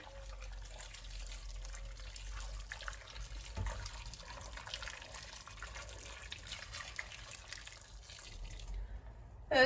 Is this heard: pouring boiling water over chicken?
yes